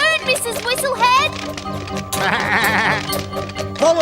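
Cartoon sheep bleats loudly and close, a wavering, quavering bleat followed by a longer buzzy one, with a voice-like quality throughout.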